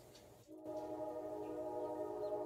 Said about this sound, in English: Just want to let that train play